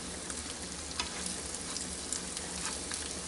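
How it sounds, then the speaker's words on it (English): Cornbread fries in a pan with a steady, close crackling sizzle that stays even throughout, with no talking. "Time to turn the cornbread."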